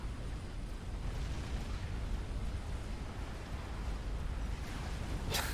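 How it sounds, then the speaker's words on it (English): A deep, rumbling ACU explosion in the real-time strategy game Supreme Commander: Forged Alliance roars as a sustained, noisy boom, faint overall and with no voices. "Unfortunately, they die in the ACU explosion."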